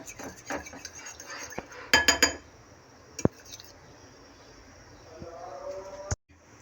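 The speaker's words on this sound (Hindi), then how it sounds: "अच्छी तरह इसे बीट करेंगे।" An egg beaten with a tablespoon or two of milk in a bowl, with a utensil clinking and scraping against the sides in quick bursts, close up, alongside a faint, quiet voice.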